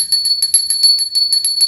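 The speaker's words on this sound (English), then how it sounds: "Let's get our little squirrely bell out and set the tone for this reading." Small bell rung during a tarot reading, a rapid run of bright, high jingling strikes, repeated steadily and close by, with no talking over it.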